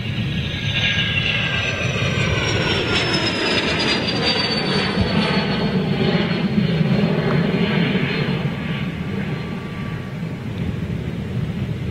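Antonov An-225 Mriya, the giant six-engine cargo plane, taking off at Glasgow Prestwick Airport, a loud continuous roaring rumble close by with a rising whine, sustained throughout without speech.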